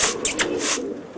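Pet pigeons cooing close by, a soft throaty burble with a few breathy pulses over steady outdoor background noise.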